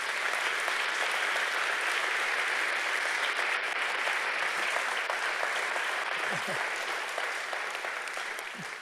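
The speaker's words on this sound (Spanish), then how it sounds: "Dale un fuerte pero fuerte aplauso a Jesús." A church congregation claps loudly and steadily for Jesus during a Sunday sermon, a dense, sustained wall of applause that tapers slightly near the end.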